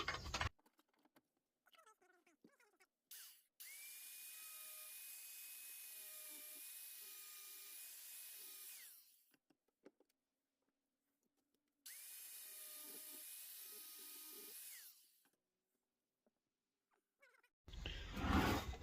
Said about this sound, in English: he's doing band grooves with a grinder.